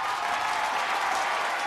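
An audience at a live music concert applauds as a singer takes the stage, dense steady clapping throughout, fairly close and unbroken.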